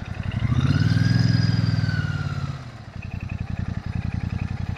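A Royal Enfield Shotgun 650 motorcycle revs up with a strong, rising engine drone, then drops back to a throbbing, pulsing idle. The engine is close and heard alone.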